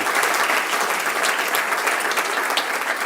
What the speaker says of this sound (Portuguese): Se você vai aplaudir, aplauda forte.